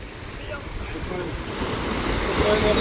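Ocean waves breaking on Arambol beach in Goa, a continuous close wash of surf swelling louder toward the end, with wind buffeting the microphone.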